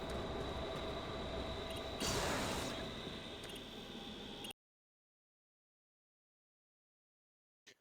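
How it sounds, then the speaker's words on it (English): Monorail train in Doom 3: a dense, loud mechanical rumble and rolling roar with a brief swell of hiss in the middle, cutting off abruptly into silence. "Monorail."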